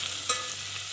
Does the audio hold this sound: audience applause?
no